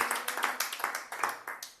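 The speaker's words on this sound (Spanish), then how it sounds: "Denle un aplauso al Señor." A church congregation gives a short burst of applause, a quick run of moderately loud, close claps lasting under two seconds.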